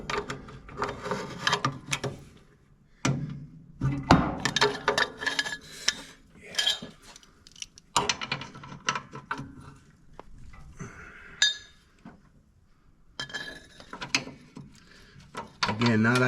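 Wrench with a pipe extension for leverage turning a nut near a drive pulley on a Toro Timecutter riding mower: a string of irregular metallic clicks, clanks and ratcheting scrapes up close, in bursts with short pauses.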